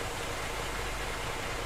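Steady, dense idle of a modded Renault Magnum truck engine in Euro Truck Simulator 2, a constant low rumble with hissy noise on top, unchanging and close throughout.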